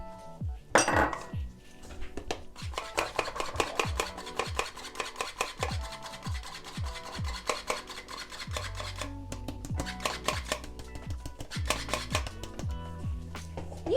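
Waffle batter of milk, vegetable oil and flour with baking powder is mixed in a bowl, with repeated clinks and scrapes of a utensil against the bowl in an uneven rhythm, close and moderately loud, with no talking.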